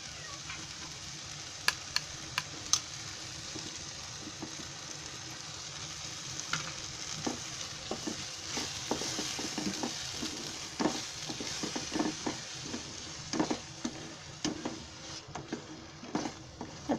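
Egg rice gravy with curd sizzles and fries steadily in a pan, a continuous crackling hiss with occasional sharp pops and light stirring clinks throughout, moderately close and with no voices.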